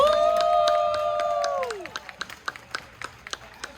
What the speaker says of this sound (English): How about we give them another round of applause for that?